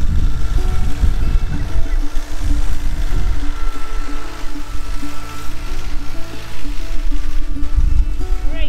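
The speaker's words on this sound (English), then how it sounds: "Hubby is over here on the tractor plowing our road." Tractor plowing a snowy rural road on a frigid winter day, a rumbling engine with clanking mechanical scraping, fairly close and fluctuating in loudness.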